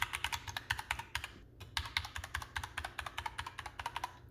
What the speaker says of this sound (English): what you can typically expect from a Cherry MX Red switch in an aluminum body without any kind of foam padding